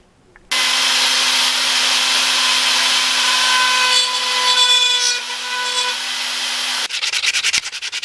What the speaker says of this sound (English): So now I have to take a Dremel tool and just open that hole back up accurately